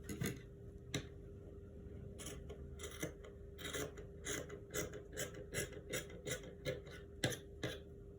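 Scissors cut out a paper or fabric pattern piece for a bustier gown, producing a series of close, crisp snips and rasping slides, sparse at first and then a quicker, fairly regular run of cuts.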